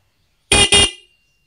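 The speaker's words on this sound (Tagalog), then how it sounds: "So, sa stock horn muna tayo." Two short, loud blasts from a car's stock factory horn, close up and alone, with a brief gap between them and a quick fade after the second.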